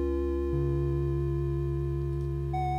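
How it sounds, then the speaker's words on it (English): A Harmonic Explorer synthesizer sounds a sustained triangle-wave tone, smooth and steady with a slightly brighter edge than a pure sine, its pitch stepping once early and again near the end. "Here's a triangle."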